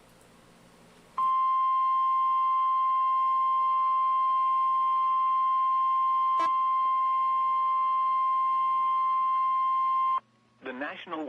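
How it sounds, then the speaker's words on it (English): Emergency Alert System warning tone broadcast during a severe thunderstorm and tornado outbreak: a loud, steady two-pitch electronic tone held for about nine seconds, followed by a brief burst of speech. "You're about to hear the EAS go off here again"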